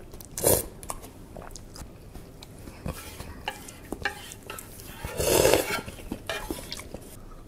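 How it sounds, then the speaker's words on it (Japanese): Someone eats Sapporo Ichiban miso ramen with green onions up close, with wet chewing, soft slurps and a couple of louder sips of soup between quieter bites. "スープを飲みながらもうもぐもぐするっていうのもなかなかいいですよね"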